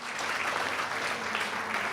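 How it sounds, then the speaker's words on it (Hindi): Audience applause greeting a speaker at a Mother's Day cultural programme in Mauritius, steady and moderately loud throughout the short stretch, with no voices. "कृपया तालियों के साथ स्वागत करें मॉरिशस सनातन धर्म टेम्पल्स फेडरेशन के प्रधान श्री भोजराज गोविंद जी का।"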